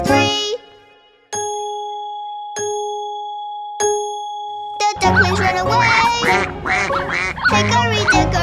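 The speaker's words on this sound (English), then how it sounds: "The clock strikes three." A cartoon clock chimes three times, bright ringing strikes evenly spaced with long decays, followed by a loud burst of quacking ducks and busy children's-song music.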